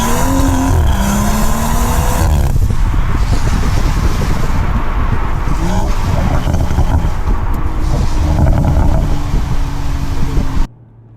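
A BMW M140i on a wet road, its engine roaring loud and close as the rear tires spin, with rising revs and a steady drone that cuts off abruptly at the end.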